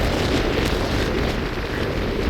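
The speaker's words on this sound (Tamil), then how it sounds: "காற்று வந்து அதிகமாக இருக்கிற காரணத்தால் கடல் கொந்தளிப்பு வந்து அதிகமாக இருக்குது" Strong storm wind buffets the microphone over a churning, rough sea off Jaffina's coast, a dense steady roar filling the whole stretch with no breaks.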